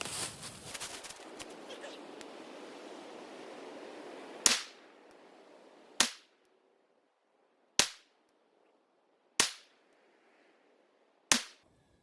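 Five sharp pistol gunshots ring out at an outdoor target practice range, spaced roughly one to two seconds apart with brief decaying tails, after a stretch of windy background noise and voices.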